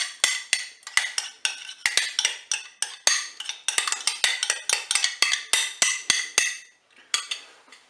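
A spoon clinks rhythmically against a bowl while stirring saffron into crème fraîche, quick bright metallic taps and scrapes repeating close up with no talking.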